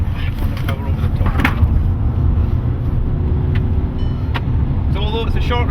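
A race car circles Knockhill Racing Circuit with a loud, steady engine drone inside the cabin, climbing a hill and easing off under braking, while someone talks over it throughout.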